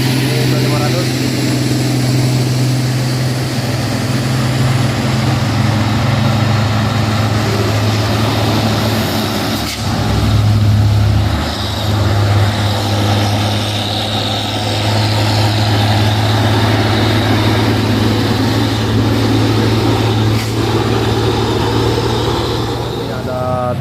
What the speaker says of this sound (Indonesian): Ini ada truk Hino